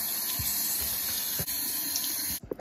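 Tap water running steadily while hair is rinsed out, a close, constant splashing hiss with faint thumps of handling, cutting off just before the end.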